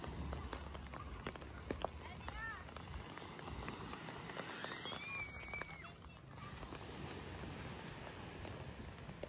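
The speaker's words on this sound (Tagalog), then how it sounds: "tapos umuulan-ulan po" Steady light monsoon rain on Boracay Island, Philippines, hissing continuously in the background, fairly faint and even, with no talking over it.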